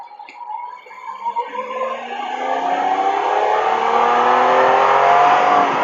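A 2020 Can-Am Spyder RT Limited three-wheeler accelerates in normal mode, engine rising steadily in pitch and loudness through the gears, heard close up from the rider's position with rushing wind building alongside.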